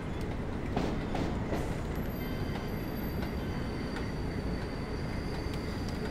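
A Northern Trans-Pennine train in Train Sim World 4 rolls along with a steady rumbling wheel-on-rail roar, faint clicks and a thin high squeal from the wheels, close and continuous, without speech.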